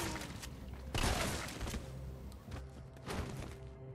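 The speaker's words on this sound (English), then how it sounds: "Shotgun!" Shotgun blasts in Resident Evil 3 Remake: a heavy boom near the one-second mark, then further loud bursts around 2.5 and 3.2 seconds over a constant game backdrop.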